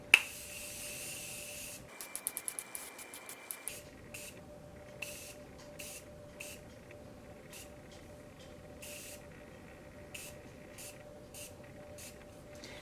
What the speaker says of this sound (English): that's like the never-ending setting spray.